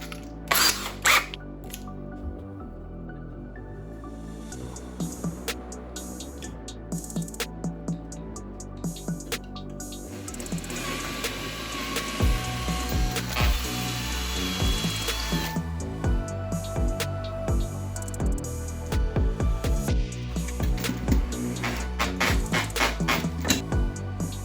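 A power drill bores holes in a wall to mount a headphone holder, with repeated whirring bursts broken by pauses and handling clatter, close and fairly loud throughout.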